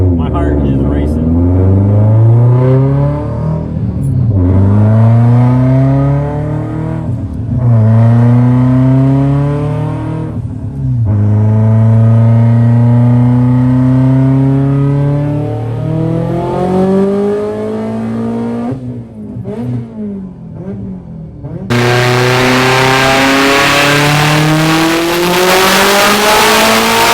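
A Subaru STI pushed hard on a dyno, its engine roaring loud and close through repeated rising revs, each climbing pull cut off by a brief drop before the next, with excited voices under the din.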